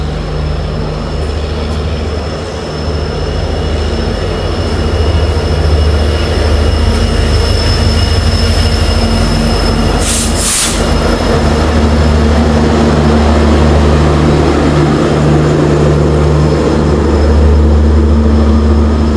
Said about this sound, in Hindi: सामने से आ रही है WDP4 diesel engine and pro. इसका रोरिंग,